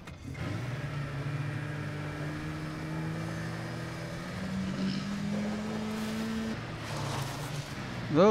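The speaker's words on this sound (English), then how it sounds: "Oh, snowmobiles suck trying to control." A snowmobile engine drones steadily in a multiplayer video game, holding a mid-pitched hum whose pitch slowly rises and falls with throttle, close and constant, with a voice talking over it.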